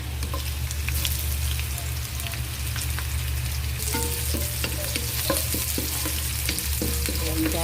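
Garlic and whole peppercorns sizzle and crackle steadily in hot cooking oil, a close, continuous frying hiss with small pops and no voices.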